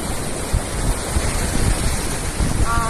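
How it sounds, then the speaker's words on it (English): Strong ocean waves crash and roar continuously at Baler beach in Aurora, Philippines, loud and close with heavy wind buffeting the microphone throughout. "And look how strong the waves are."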